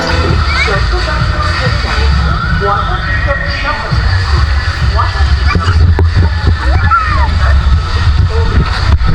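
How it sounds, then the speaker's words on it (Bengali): Riders slide down a water tube from four storeys up into a pool at the Fantasy Kingdom amusement park, with loud, continuous rushing and splashing water. Voices and children's chatter run throughout. "আমরা এখন 4 তলার উপর থেকে টিউবে করে পানিতে নামবো"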